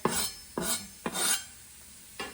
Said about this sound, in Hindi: now I will mix it